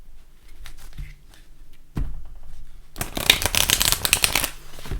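Light Seers Tarot cards are handled with a few soft taps and slides, then riffled in a dense, crisp flurry of shuffling for about two seconds, close to the listener.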